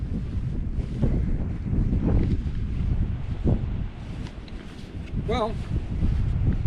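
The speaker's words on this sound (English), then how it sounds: "the wind coming across this field behind me is quite strong" Strong wind gusting across an open field beside a hiking trail, a loud, continuous low roar buffeting the microphone with surges and lulls, while a person speaks briefly over it.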